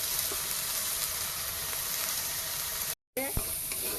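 Boiled ingredient sizzling in a pan with cooked-down spice paste, a steady broadband fry hiss with light stirring, briefly cut out near the end before a few scraping clinks return.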